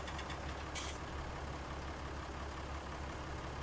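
Tractor engine in Farming Simulator 19 on PS4 running steadily at low revs, a continuous loud drone with a brief hiss near the start.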